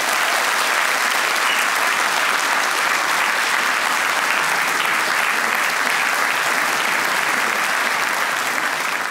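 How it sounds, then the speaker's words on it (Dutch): A Belgian late-night TV talk show's studio audience gives dense, sustained applause at an even, loud level for the whole stretch, with no speech over it. "Geef een David applaus voor Jan Delvaux"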